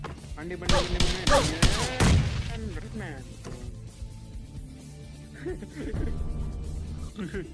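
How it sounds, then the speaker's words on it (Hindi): Shotgun blasts ring out in a battle royale video game, a few loud booming shots early on followed by fainter distant fire, while someone talks over the gameplay. "ऊपर चढ़ जाता हूँ और यहाँ से या तो ओम का हेडशॉट मार दूंगा या फिर एक एम से काम चला लेंगे"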